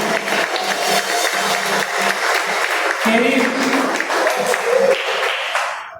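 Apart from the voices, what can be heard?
church congregation applauding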